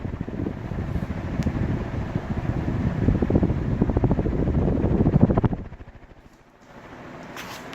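An S.M.C. K56 industrial ceiling fan runs with a steady, loud whooshing hum and rhythmic blade beating, then quiets and drops sharply near the end as the airflow eases.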